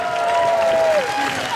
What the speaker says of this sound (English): let's give them a big round of applause, the girls